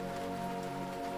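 Steady rain patters against window glass on a quiet street, a soft, even wash of drops with a low sustained tonal hum beneath it.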